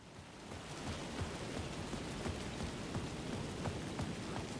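Steady rain pours down in the Alan Wake 2 game world, a continuous dense hiss with scattered droplet taps, even and moderately loud throughout with no voices.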